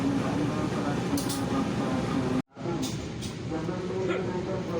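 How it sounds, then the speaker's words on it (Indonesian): A passenger train rumbles into Ngrombo station on track 4, a steady heavy roar with a brief dropout midway, while voices carry faintly over the din. "kereta api Dharma Wangsa dari arah Jakarta masuk di jalur 4 stasiun Ngrombo"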